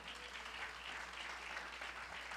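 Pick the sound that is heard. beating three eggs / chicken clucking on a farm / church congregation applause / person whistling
church congregation applause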